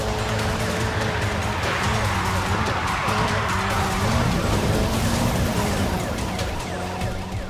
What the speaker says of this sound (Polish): jest taki specyficzny dźwięk przy włączaniu turbo